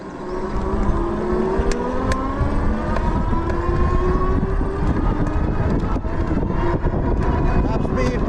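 An AMYET S8 AWD e-bike with twin 1000 W motors runs at top speed under pedal assist, its loud, steady motor whine rising slowly in pitch over rushing wind noise, continuous and close throughout.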